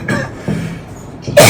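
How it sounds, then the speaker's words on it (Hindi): A teacher's cough interrupts a Hindi physics lesson, with a short rough burst early on and a louder, sharper cough near the end, separated by quiet room noise. "थोड़ा खांसी आ रही इधर"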